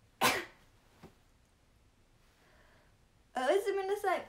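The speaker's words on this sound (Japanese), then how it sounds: "咳出る咳出る咳出る。" One sharp, close cough breaks a near-silent room, followed a few seconds later by someone speaking.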